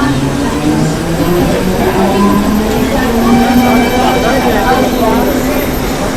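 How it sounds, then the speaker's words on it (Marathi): A train rumbles past up close, a loud continuous roar with rising and falling tonal whine from the wheels and motors. "चल आपली पण ट्रेन आली"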